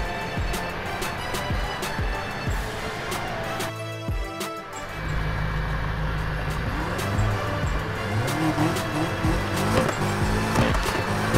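A BMW M3 E46 drift build running on drag tires in Need for Speed Heat gives a steady, full engine drone throughout, with a brief dip near the middle before the sound swells back up.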